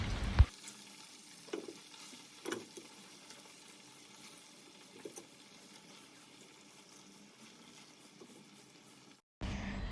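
Fish fries in a pan of leftover fish oil, a soft continuous sizzle punctuated by a few sharp spits and pops, quiet overall until a louder burst of sizzling returns at the very end.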